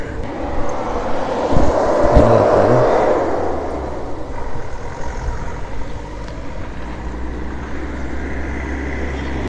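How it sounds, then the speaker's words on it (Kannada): An airplane passes overhead at Nandi Hills on a cold early morning. A broad, steady rumble swells and then slowly fades as the aircraft moves away, with no speech over it. "ಫ್ಲೈಟ್ ಹೋಗ್ತಾ ಇದೆ."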